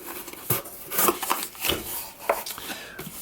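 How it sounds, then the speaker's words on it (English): An Amptweaker Fat Metal Pro guitar distortion pedal is unpacked from its packaging, with irregular close rustles, scrapes and light knocks of cardboard and wrapping. "Here's the unboxing, the famous unboxing."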